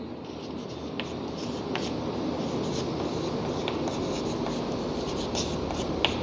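Faint marker or chalk strokes on a classroom board during a math lesson, short scratchy bursts at irregular intervals over a low steady background hum.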